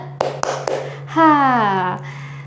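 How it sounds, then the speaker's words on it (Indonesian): Three sharp hand claps come in a quick rhythmic pattern in a classroom guidance session, followed by a sustained tonal voice or chime, with a steady hum underneath. "Tepuk tangan 1, tepuk tangan 2, tepuk tangan 3."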